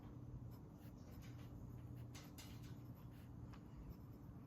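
Soft scratching of a dip pen nib moving across paper in short strokes while swatching Robert Oster ink, close and quiet, with no talking.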